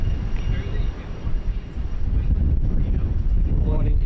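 Boeing 777 freighter arriving at Sydney Airport, a steady low jet-engine roar that rumbles on throughout at moderate distance, with wind noise on the microphone.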